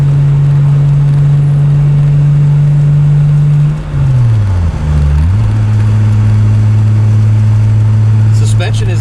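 A MKIII Toyota Supra with a swapped 2JZ-GTE Aristo engine drones steadily while driving, the pitch dipping briefly as it shifts before settling back into an even cruising hum with road noise.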